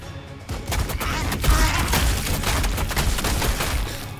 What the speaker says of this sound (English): Didn't expect so much artillery down there.